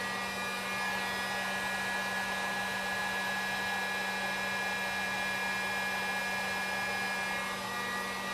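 A heat gun or hair dryer blows hot air onto car paint to loosen duct tape, a loud, steady whirring roar with a constant hum, running unbroken throughout.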